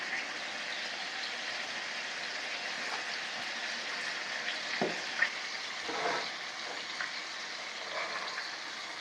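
Meat cutlets frying in a pan give a steady, even sizzle that holds throughout at moderate loudness, with a few faint pops and spatula scrapes over the hiss.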